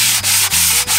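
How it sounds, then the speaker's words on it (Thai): Sandpaper wrapped around a hand block scrapes over dried wall filler on a board wall, a loud, close, continuous rasp broken by three short pauses as the strokes change direction. "เวลาเราขัดนะให้หาวัสดุอะไรที่พอดีมือนะครับมาใส่ไว้ในกระดาษทรายแบบนี้นะครับ"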